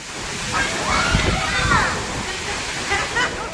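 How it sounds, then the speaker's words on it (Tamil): Rushing water pours and splashes in a heavy rain and wind storm, a loud, dense, continuous wash with sloshing surges, while a voice talks over it. "இந்த மழையும் காற்றும் ஈக்குவலாக ஒன்றுக்கு ஒன்று விட்டு கொடுக்கல"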